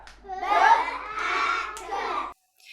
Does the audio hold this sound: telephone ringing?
no